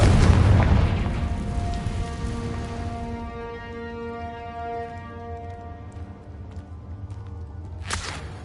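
Confringo blasting spell in Hogwarts Legacy, a loud whooshing burst at the start fading into a long ringing hum, then a sharp crack near the end.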